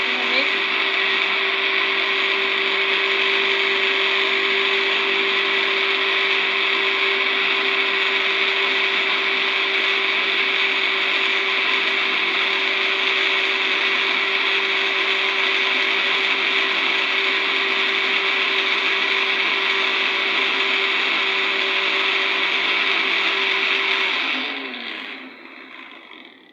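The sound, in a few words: blender mixing cream and cold water into butter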